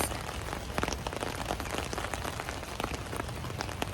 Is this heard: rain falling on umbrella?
yes